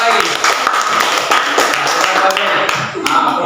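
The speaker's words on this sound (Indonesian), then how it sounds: "Beri tepuk tangan untuk kelompok laki-laki" A class of students claps for the boys' group after their presentation during a teaching practice lesson, with dense rapid clapping throughout, close and loud, with voices mixed in.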